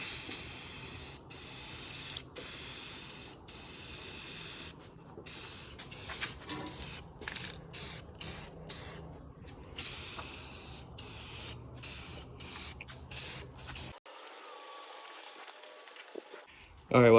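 Repeated hissing bursts of an aerosol spray paint can, short sprays separated by brief pauses, close and loud, with a voice briefly audible at the end.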